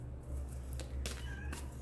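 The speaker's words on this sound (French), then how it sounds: "je suis désolée pour les miaulements." A kitten meows faintly a few times over a steady low hum, the cries short and somewhat distant.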